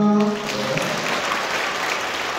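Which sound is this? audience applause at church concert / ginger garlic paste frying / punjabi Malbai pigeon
audience applause at church concert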